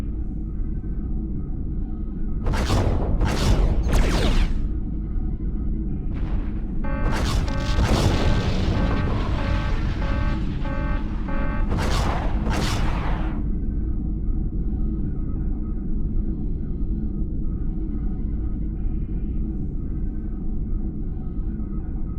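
A tanker ship is destroyed in the Star Trek: Klingon Academy space combat game, with several heavy booming explosions in bursts over a constant loud engine rumble that keeps going after the blasts fade.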